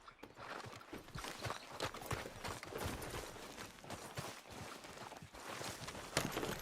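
Horse hooves clip-clopping at a walk in Red Dead Redemption 2, a steady close rhythm of distinct hoof strikes on the ground, continuing throughout with faint voices in the background.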